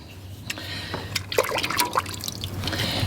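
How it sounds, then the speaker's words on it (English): A window-cleaning pad is rinsed in a container of water after buffing glass on a 1985 Chevrolet Silverado, giving soft close splashes and trickles with a faint low hum underneath. "And then rinse it in the water a little bit."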